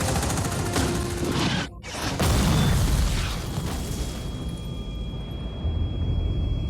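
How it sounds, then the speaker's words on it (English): Heavy cinematic booms and rumbling blasts from a movie scene fill the clip, loud and dense, with a brief sudden drop in the middle and a high ringing tone lingering afterward. "Cinematic booms everywhere."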